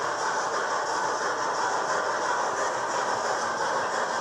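Model railway trains run steadily nearby, a continuous broadband rolling hiss and rumble with no distinct clicks or pauses, and no voices over it.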